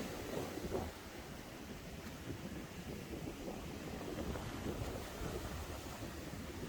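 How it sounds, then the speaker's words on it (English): Sea waves of the Irish Sea surge and crash against the promenade sea walls, a continuous broadband roar with wind noise and several heavier swells rising out of the steady wash. "Sea crashing against the walls that protect the promenade"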